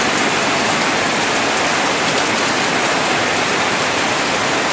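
Heavy rain pours down steadily in a rural village, a loud, dense, unbroken hiss with no voices.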